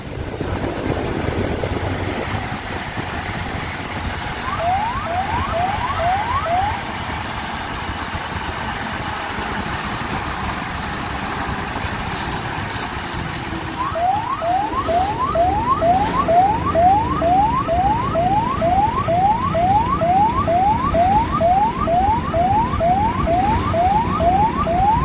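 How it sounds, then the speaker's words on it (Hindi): A wailing emergency siren heading to a fire in Siwan sweeps up and down repeatedly over a steady rumble of traffic, growing louder and faster partway through as the vehicle comes closer. "और देखिए गाड़ी सायरन बजा रही है।"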